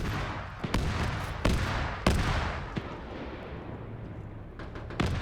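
Autocannon fire in an Arma-style PvP match on Operation Just Cause: a handful of sharp, heavy reports spaced about a second apart, each trailing off into a rumbling echo over steady background noise.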